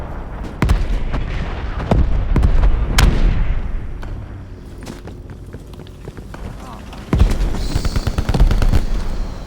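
Artillery strikes land in Call of Duty Cold War as a series of sharp, heavy booms and blasts, some close and loud, with rumbling and scattered gunfire between them and a voice talking over the action.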